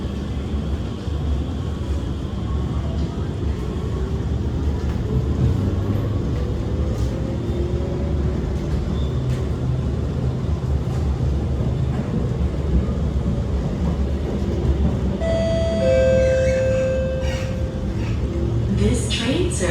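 An SMRT R151 train runs between Bukit Gombak and Jurong East stations, its strong motor making a loud, steady rumble throughout. Near the end, a thin whine rises above the drone.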